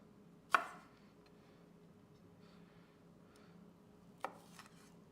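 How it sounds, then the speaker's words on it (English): A knife cutting the stems off serrano peppers on a board, two sharp chopping knocks a few seconds apart with quiet handling between. "I'll just cut the stems off."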